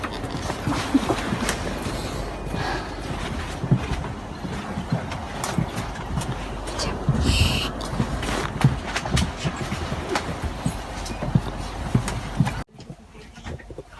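Steady rumbling clatter of a moving train in Espoo, Finland, from inside a carriage, with rhythmic knocks and rattles, ending abruptly.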